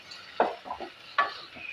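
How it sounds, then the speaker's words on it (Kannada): Chopped tomato frying with onions in a pan for palak paneer gravy, two sharp spoon scrapes over a soft continuous sizzle, close and moderately loud. "ಸ್ವಲ್ಪ ಟೊಮೊಟೊನು ಚೆನ್ನಾಗಿ ಫ್ರೈ ಆಗಬೇಕು."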